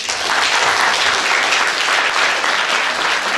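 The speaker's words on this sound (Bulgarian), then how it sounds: "Аплодисменти за тях!" A loud, dense burst of audience applause fills a concert hall at an 80th anniversary celebration of a community cultural center, many hands clapping evenly and continuously from start to finish.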